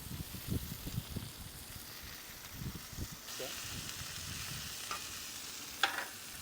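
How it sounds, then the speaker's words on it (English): Mushrooms hitting a hot griddle on a Big Green Egg ceramic grill, with a low, steady sizzle and some stirring and scraping from the spatula in the first half, plus a couple of sharper clinks near the end. "We're going to go ahead and add our mushrooms."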